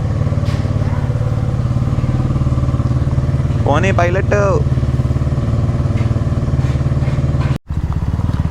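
A motorcycle running with its exhaust silencer removed gives a loud, steady, deep rumble that never lets up, with a voice speaking briefly over it partway through.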